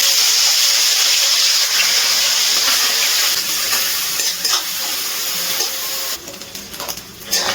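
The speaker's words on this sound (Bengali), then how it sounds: "চিংড়ি মাছগুলো তেলে দিয়ে ভেজে নিচ্ছি।" Small shrimp frying in hot oil in a kadai, a steady close sizzle and hiss that runs throughout and eases slightly near the end.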